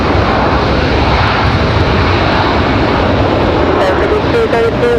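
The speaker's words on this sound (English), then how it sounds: "There's FedEx 785 coming in from Memphis, Tennessee" A FedEx Boeing 767 cargo jet arriving at Raleigh-Durham airport roars loudly and continuously, its engine noise filling the scene with a faint voice beneath it.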